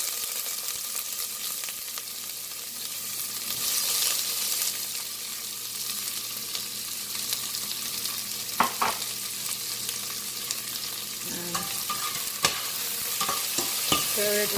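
Bhindi fry with chopped onions and green chilies stirred in a frying pan, a steady broadband sizzle throughout with occasional sharp scrapes and clicks of the spoon, growing busier near the end.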